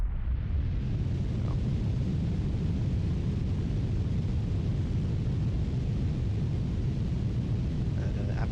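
A steady, deep roar of a rocket engine with solid rocket boosters in a space flight game, continuous and rumbling throughout, fairly quiet and unbroken.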